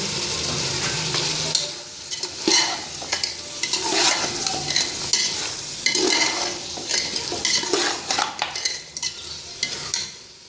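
Green chillies going into mutton frying in oil in a pot, with a steady sizzle under repeated scraping stirs and clinks of a spoon against the pan, close and continuous throughout.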